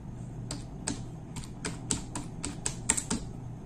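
Fingers typing a mobile number on a computer keyboard, a steady run of close, crisp key clicks with no talk.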